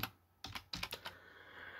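Keys tapped on a computer keyboard while entering a search in Windows 10, a handful of close, quick clicks in a short burst over faint room hiss, no speech.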